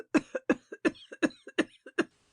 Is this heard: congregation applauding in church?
no